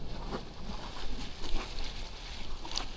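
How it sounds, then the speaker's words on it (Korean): Strong coastal wind buffeting steadily at a fishing spot in Gangneung, a continuous broadband roar and rumble with gusty swells, loud and close, no talk. "바람은 여전히 거세게 불고 있습니다"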